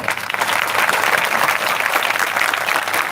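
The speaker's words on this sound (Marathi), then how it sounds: "त्यांच्यासाठी एकदा जोरदार टाळ्या" An audience claps loudly and continuously at a public gathering, a dense, even wash of applause that holds for the whole stretch.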